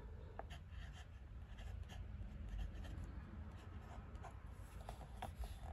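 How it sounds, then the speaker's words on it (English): A Retro 51 fountain pen, medium nib, scratches quietly across notebook paper in short strokes and pauses, soft and close with low room hum. "Good versatile paper, like, I'll just do that live writing sample here."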